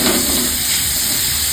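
Onions hit hot oil in a pan where garlic has already browned, setting off a loud, close, continuous sizzle and hiss that stays level the whole time, with no talking over it.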